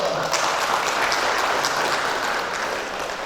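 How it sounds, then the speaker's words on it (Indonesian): Applause from a seminar audience at a national conference, a steady dense wash of many hands clapping throughout, fairly loud and even. "Tepuk tangan dulu untuk panitia saya."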